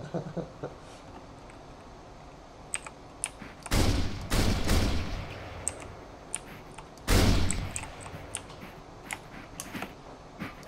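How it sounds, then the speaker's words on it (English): Gunfire from a powerful gun in the voxel video game Voxelnauts: a few loud, sharp blasts ring out, including two heavy bursts, among scattered softer clicks and taps. "a pretty powerful gun. You can kill pretty much anything with it."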